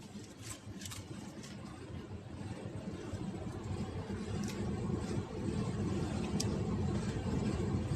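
A car moving steadily along a road, its low rumbling engine and road noise building slightly louder over eight seconds, with no one talking.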